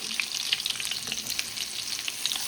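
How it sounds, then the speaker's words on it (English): Potatoes sizzle and crackle in hot oil over a low to medium flame, a soft steady frying hiss dotted with small pops, close up and fairly quiet, no voices. "Now on low to medium flame, I'm just frying the potatoes a bit."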